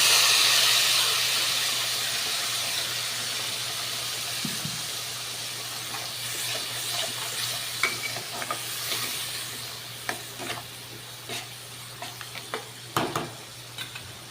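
Spices drop into hot oil with browned onions, giving a steady loud sizzle and hiss. Stirring scrapes and clatters grow more frequent toward the end.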